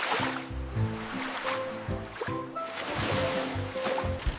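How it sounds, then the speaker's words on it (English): Water sloshes and splashes around a boat in uneven bursts, with tonal creaks and knocks mixed in, fairly close. "This is a boat. It travels on water."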